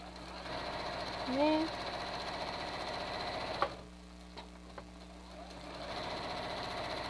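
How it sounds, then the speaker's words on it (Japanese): A sewing machine stitching a pocketed 3D cloth face mask runs with a steady mechanical whir, with someone talking over it before a pause and a few small clicks as it restarts. "なんか久しぶりにミシンしながら配信してますね。"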